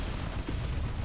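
Artillery fire in the real-time strategy game Dawn of War: Unification, a deep, rumbling low boom with a brief thump midway, dense and continuous across a short moment with no talking.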